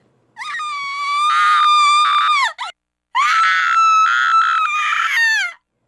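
Two voices in the Book of Shadows video game scream one after the other, each a long, loud, high-pitched cry, separated by a short gap.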